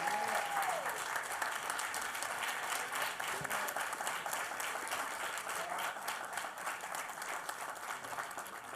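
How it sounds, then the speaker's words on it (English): Audience applause at a conversation event with actor Courtney B. Vance, a broad, steady wash of many hands clapping heard from a distance, sustained and even, with a faint brief tone near the start. "Let's give them a round of applause."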